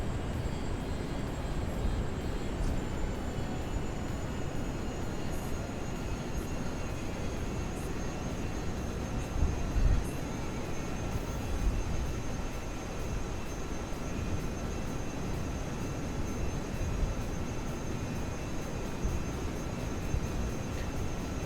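Aircraft engine throttling up in Kerbal Space Program, a dense roaring rumble with a steady high whine that sinks slightly in pitch early on, then holds loud and even, with no voices.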